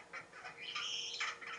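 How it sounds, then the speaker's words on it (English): An adult zebra finch raised in isolation sings in a recording, a short stretch of strained, squawking buzzy notes with one sustained harsh tone, heard alone. "And here's the song of an adult bird, another adult zebra finch."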